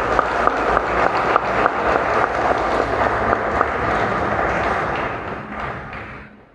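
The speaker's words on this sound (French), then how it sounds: "je voudrais à nouveau qu'on applaudisse" Audience applause at a scientific conference, a full round of dense clapping from a seated crowd that holds steady and then fades out toward the end.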